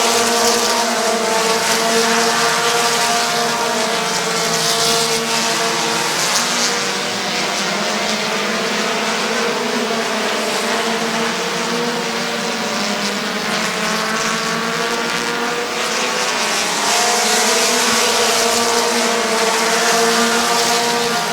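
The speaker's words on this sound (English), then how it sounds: "Dan Bucky trying to get around the 41 of Toby Cook for third" Race cars roar continuously around Midvale Speedway oval track, with a dense, loud layered engine drone and rising and falling pitches as several cars pass throughout.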